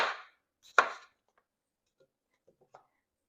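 A knife cuts through fresh tomatoes on a board in two quick, close chops, with a few faint taps afterward in an otherwise quiet kitchen.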